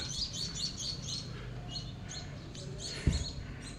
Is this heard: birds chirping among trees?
yes